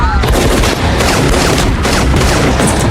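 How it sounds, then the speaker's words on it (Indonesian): A heavy, continuous burst of rapid gunfire and echoing shots fills a robbery shootout scene from the 2024 action film Armor, loud and close with no pauses. "kini giliran James dan Casey membalas tembakan yang berhasil mengenai satu perampok"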